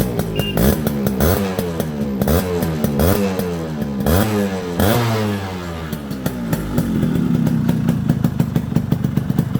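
A Yamaha RX 100 two-stroke motorcycle engine, rebuilt with new piston, rings and bearings, revs up and down repeatedly at close range, its crackling exhaust rising and falling in pitch, then settles into a steady idle.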